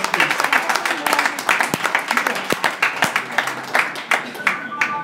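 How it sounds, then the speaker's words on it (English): Audience applause for pianist Angus Masson at a book event: a room of hands clapping in quick, uneven bursts for about five seconds, moderately loud and close, with no talk over it. "I'd like you to give a round of applause to one of the authors that belongs to Porcupine Press"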